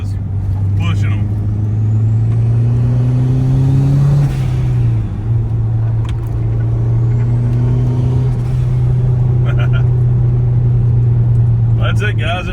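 A turbocharged 1998 Honda CR-V with a B20 engine and adjustable cam gears pulls hard through curves at about 50 mph, its engine note droning and rising steadily inside the cabin while someone talks over it.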